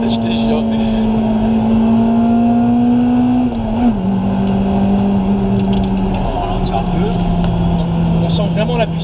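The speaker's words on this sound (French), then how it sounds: "un petit crissement et le VTEC se réveille et c'est parti" A Honda Civic Type R EP3 engine revs hard toward its VTEC range, a loud sustained in-car engine tone that rises, dips briefly and climbs again, with talk audible underneath.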